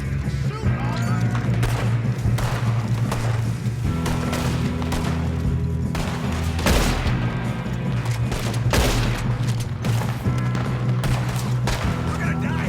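Gunfire during a train robbery in Red Dead Redemption 2, dense overlapping shots and bangs over a steady rumbling train and game music, loud and continuous.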